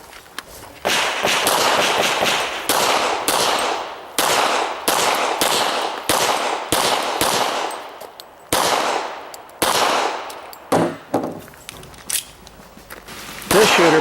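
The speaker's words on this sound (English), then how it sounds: "This shooter places 6 rounds on the 5th target as an added measure of insurance." Pistol gunfire at an IDPA shooting match stage: a rapid string of sharp, loud shots with brief pauses, including a break for a reload, then a final faster cluster.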